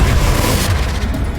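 Confringo, the fiery blast spell in the video game Hogwarts Legacy, lands as a loud, full-bodied boom with a rumbling low end that trails off quickly, heard close and with no voice over it.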